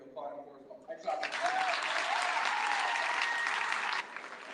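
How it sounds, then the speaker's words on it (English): Applause at a middle school awards celebration for a student who won the band director's award: a full, steady burst of crowd clapping that starts abruptly, holds evenly for about three seconds, then drops off. "So that's another thing to applaud him for as well"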